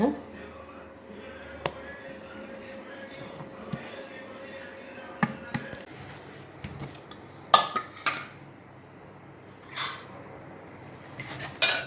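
Freshly ground urad dal batter being scooped into another vessel: scattered metallic clanks and scrapes of pots and a utensil, a few sharp knocks among quieter handling noise, with a voice talking at times.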